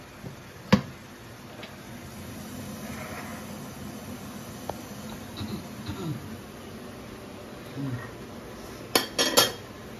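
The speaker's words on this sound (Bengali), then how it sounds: "ফ্রাই করার জন্য সসপ্যানটা বসিয়ে নিচ্ছি" A saucepan set down on a stove with its lid placed for frying idli-dhokla, heard as a few sharp metallic clinks and knocks, some close together near the end, over faint background hiss.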